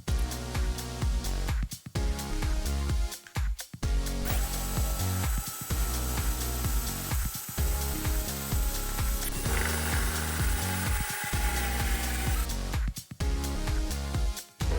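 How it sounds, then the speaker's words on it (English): A drill bores a 20mm hole through the bottom of a plastic water bucket, a loud, close, continuous grinding whine broken by several short pauses and restarts. "Then drill a 20mm hole needed for the tap in the bottom water bucket."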